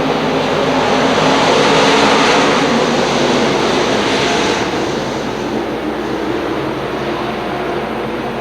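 Stock cars racing in a heat race just after the green flag, a dense, loud, sustained engine roar that swells and then eases slightly as the pack passes, with no voices.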